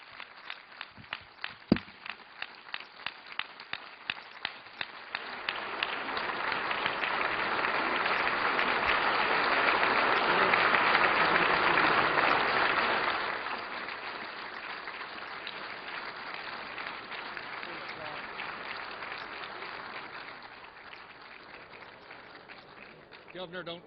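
A political rally crowd in Iowa claps after a speech by a governor, with steady sustained applause that swells in the middle and then eases, dense and fairly close.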